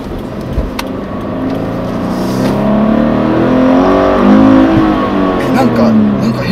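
A Subaru BRZ GT sports car engine revs in a steady, rising drone, with light vibration from a very soft throttle, while people talk over it throughout.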